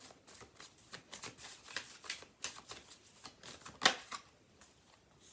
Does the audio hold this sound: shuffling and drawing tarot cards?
yes